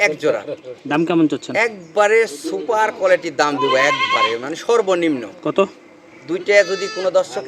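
Goats of Totapuri, Beetal and Haryana breeds at a farm sale bleat loudly and repeatedly, the close, wavering calls overlapping and following one another with hardly a pause for about seven seconds.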